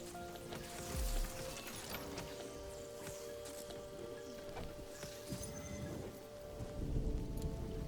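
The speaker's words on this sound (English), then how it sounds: "Everything's being destroyed because it's fucking raining." Steady rain in a video game hisses with a low rumble and occasional louder gusts, a constant wet wash with no talking.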